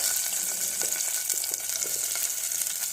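Boiled sweet corn kernels frying in ghee or oil in a bowl, a bright, steady close sizzle with faint crackles, no voices.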